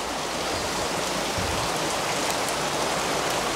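Rain falls in Hallstatt, Austria, a dense, even hiss of drops on surfaces that stays moderately loud and unbroken throughout, with no one speaking.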